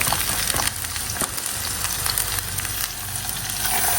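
Bitter gourd and onions frying in hot oil, a steady close sizzle running unbroken throughout with a few soft stirring knocks and no talk.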